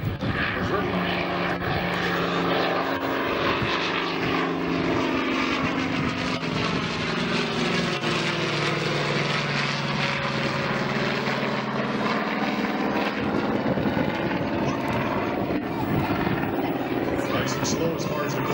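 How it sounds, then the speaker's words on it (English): A Corsair propeller fighter makes a slow, low gear-down pass at a props and pistons airshow, its piston engine a loud, steady drone that swells and shifts in pitch as it flies by, with a commentator talking over it. "Is he going to land or do a gear down fly pass?"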